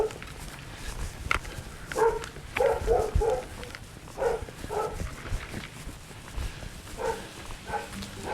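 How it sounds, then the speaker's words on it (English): Dogs barking at a farm beside a public footpath, several sharp barks in bursts, moderately close, with outdoor background noise and no talking. "there's dogs to welcome us"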